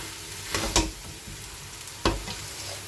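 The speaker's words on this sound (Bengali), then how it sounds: "সয়াবিনটা দিয়ে একটু কষিয়ে নেবো" Soybean chunks stir-fried with spices in a pan, giving a low steady sizzle broken by a few sharp scrapes of the spatula, close and fairly quiet, with no one talking.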